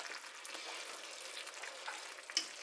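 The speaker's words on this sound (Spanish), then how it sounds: "que se cocinen para que queden blanditas unos minutos" Spinach sizzles and crackles steadily in a hot pan, a soft continuous frying hiss with small pops, heard close up and without talk.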